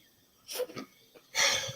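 One person sneezes during a sports talk segment, a short breathy intake followed by a sharp, fairly faint burst near the end, otherwise quiet.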